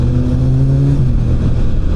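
An inline-four motorcycle engine passes close by, a loud, steady droning roar with a smooth pitch that holds and then shifts slightly as it goes past, with no talk over it.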